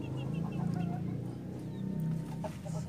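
Chickens cluck softly and steadily against a constant background hum in a home poultry setting where eggs are being hatched. There are no voices.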